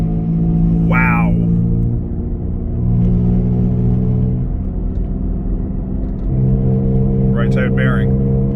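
A car with a bad right-side wheel bearing gives a loud, steady droning rumble while driving, with voices talking over the road noise.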